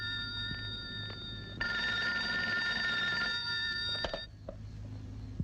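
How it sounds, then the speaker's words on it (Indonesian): A telephone bell rings in a steady, continuous trill that is fairly loud and then stops abruptly, followed by a quieter room with faint background noise. "Pak, jangan-jangan Mama yang telepon tuh."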